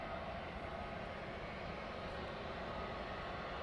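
Aircraft pushing back from the stand at East Midlands Airport at night, with a 737 among them: a steady, broadband roar of engines and ground equipment, constant and fairly distant, with no talk.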